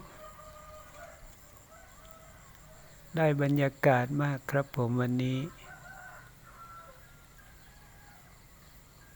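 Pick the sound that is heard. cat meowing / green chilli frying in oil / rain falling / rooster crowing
rooster crowing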